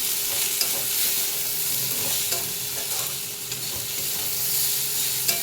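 Cowpeas stir-fried in a home kitchen pan, a steady close sizzle with the scrape and rustle of stirring running throughout, no voices.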